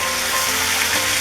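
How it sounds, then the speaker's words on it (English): Beef sizzling in a very hot pan with olive oil while making Beef Wellington, a dense, steady crackling fry heard up close throughout. "So you can hear it's really hot pan."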